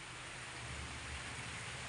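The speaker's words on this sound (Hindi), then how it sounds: "हद से ज़्यादा बारिश हो रही है यार" Heavy rain pours down steadily outside during a wedding, a dense, continuous hiss of falling water close by, with no voices.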